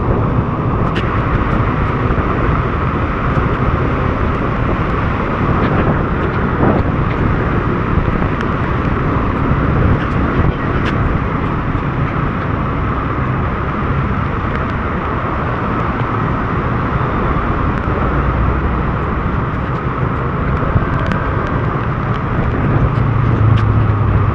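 Steady, loud road traffic rumble heard from a delivery rider's motorbike on the move, a continuous blend of engine drone and wind buffeting with no clear pauses or speech.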